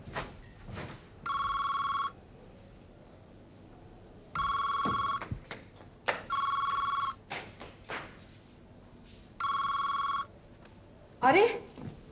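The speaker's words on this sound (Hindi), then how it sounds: "फोन क्यों नहीं उठा रहा कोई?" Four separate bursts of a ringing telephone, each about a second long, with talk and occasional thumps in between.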